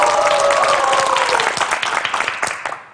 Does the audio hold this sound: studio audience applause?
yes